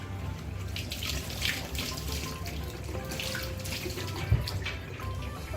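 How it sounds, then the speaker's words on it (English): Tap water runs steadily into a sink while a sponge cloth is rinsed and squeezed under it. The sound is a continuous close splashing with small sloshing changes and no voices. "Now I wash this clothes, sponge cloth"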